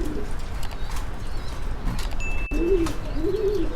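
A pair of black Meghpai pigeons coo softly from a cage on a pigeon farm, two short rolling coos near the end over a constant hum of background noise.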